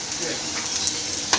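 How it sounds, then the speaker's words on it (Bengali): Pumpkin fritters frying in a pan of oil give a steady, close sizzle with a couple of brief sharp pops near the end. "কুমড়োর বেগুনি হচ্ছে, দেখো রান্না হচ্ছে।"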